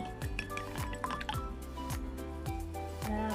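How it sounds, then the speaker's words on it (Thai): Beaten egg poured into a pan of simmering pork for oyakodon, with a steady liquid pour and soft drips and squishes over a repeating low background tone throughout. "พอมันเนื้อหมูเริ่มสุกแล้วนะคะ เราก็จะใส่เทไข่ลงไปเลยค่ะ"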